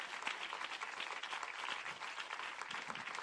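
A church congregation applauds, a dense, continuous wash of many hands clapping at steady volume throughout, with no voices standing out.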